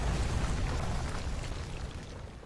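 Cataclysm Cannon blast in Age of Wonders Planetfall, a dense roaring explosion that rumbles and crackles continuously, loud and slowly fading over a couple of seconds.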